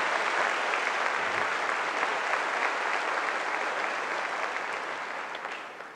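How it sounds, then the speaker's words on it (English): Graduation ceremony audience at Francis Scott Key High School applauds in a large hall, with a steady, dense wash of clapping that fades slightly toward the end. "Please give them all another round of applause."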